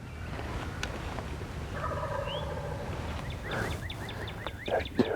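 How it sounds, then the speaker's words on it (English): Two or three wild turkey gobblers gobble during a spring turkey hunt, the rattling calls coming in quick overlapping bursts at middle distance over steady outdoor background noise. "There's 2 or 3 gobblers"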